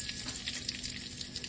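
Mustard seeds and curry leaves fry in a spoonful of hot oil in a pan, giving a dense continuous crackle with sharp spitting pops, close up and without talk.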